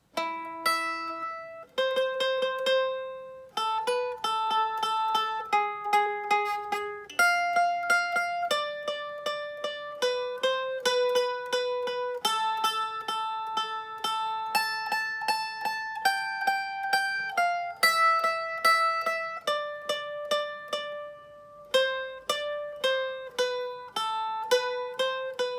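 Solo mandolin picks out a slow melody of the Sicilian mazurka from The Godfather wedding scene, each note sustained with shimmering tremolo, clean and close with no talking.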